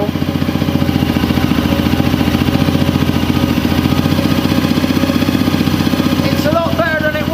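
A Honda CRF250L motorcycle engine idles roughly nearby, a loud steady chugging with an uneven pulsing beat and mechanical clatter, a brief higher whine rising near the end.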